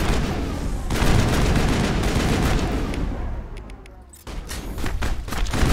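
Gunfire in the video game Mass Effect: a dense, continuous rattle of shots and impacts that thins briefly before resuming at full strength.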